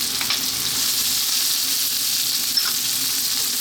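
Carrot, celery and cauliflower fry hard over high heat in an Indian veggie fried rice, a loud, close, unbroken sizzle with a brief stir near the end.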